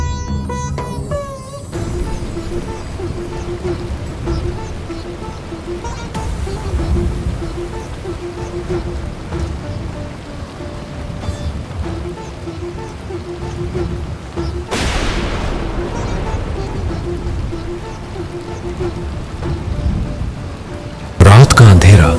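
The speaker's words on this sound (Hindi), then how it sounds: "रात का अंधेरा और मूसलाधार बारिश, आसमान में जोर जोर से बिजली कड़क रही है।" Heavy monsoon-style rain pours steadily at night while thunder rumbles and cracks loudly overhead, with a sharp close thunderclap near the end; a narrating voice and faint tones sit under the storm.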